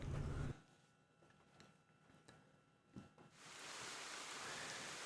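Rain falls in the video game Ender Magnolia: Bloom in the Mist, a soft even hiss of drops that swells in after a quieter stretch with faint game tones, no speech.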